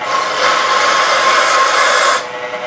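A square end scraper cuts wood spinning on a woodturning lathe, making a loud, steady rasping shear that runs for about two seconds and then stops, leaving the lathe's hum.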